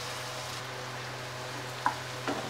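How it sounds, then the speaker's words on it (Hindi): Onions sizzle and fry quietly in a pan for dal fry, a soft continuous crackle with a couple of brief stirring clinks near the end. "प्याज लाल होने तक मैं इन्हें भूनूंगी"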